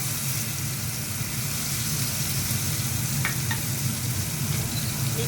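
Spice paste of green chilli, ginger, cumin and coriander powder fries in a pan with a steady, close sizzle and a couple of faint utensil clicks, and no voices.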